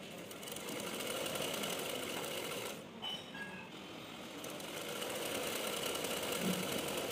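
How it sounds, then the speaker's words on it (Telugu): Sewing machine stitching a cloth seam: a steady, fairly quiet mechanical whirring drone that dips briefly near the middle and then resumes, with no speech. "తర్వాత బయట వైపు కూడా ఇంకొక స్టిచ్ వేసుకుంటే ఈ క్లాత్ అనేది నీట్గా ఉంటుంది"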